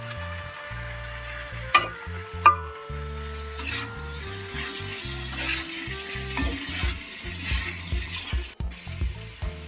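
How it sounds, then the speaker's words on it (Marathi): Potato and capsicum pieces fry in a pan for a Maharashtrian bhaji, with soft sizzling alongside intermittent stirring clatter and a couple of sharp utensil knocks. "आता बटाटा टाकून घेऊया. शिमला मिरची टाकूया आता."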